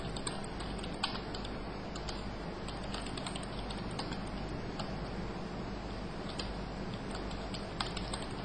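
Quick, continuous typing on a computer keyboard, dense light clicks at an even pace, faint beneath a constant broadband hiss and low hum.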